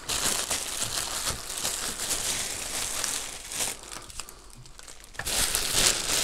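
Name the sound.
plastic bag being crinkled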